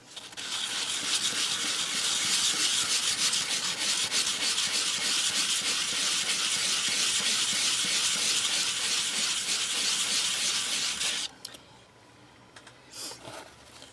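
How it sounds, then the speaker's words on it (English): Wet sandpaper rubbing paint off a piece of polymer clay: a loud, steady, close rasping hiss for about eleven seconds, stopping abruptly, then a few faint scuffs afterward. "you can see that it's beginning to sand off some of the paint."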